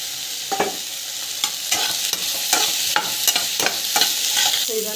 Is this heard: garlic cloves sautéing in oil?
yes